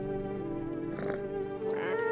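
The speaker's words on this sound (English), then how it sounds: "a cat. Meow, pet the cat." A cat meows in the video game No, I Am Not A Human, a drawn-out tonal call with rising and falling inflections over a steady harmonic background hum.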